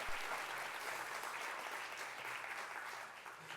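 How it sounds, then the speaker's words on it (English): Steady round of audience applause at an ArtPride New Jersey 40th anniversary event, a fairly soft, even wash of many hands clapping that continues throughout with no speech on top. "So a big round of applause for Jim."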